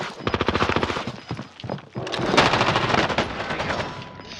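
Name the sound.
gunfire from a sniper in a video game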